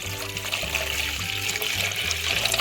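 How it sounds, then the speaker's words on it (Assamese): Water poured into a pot to be boiled, a steady close trickle and splash that runs unbroken, with a low gurgling undertone. "বইল কৰিবলৈ মই পানী দি লৈছোঁ ইয়াত"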